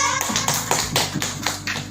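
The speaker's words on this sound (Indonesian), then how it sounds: "Tepuk tangan semuanya" A school audience claps together in a steady burst of rhythmic handclaps, fairly close and loud, with a brief murmur of voices underneath.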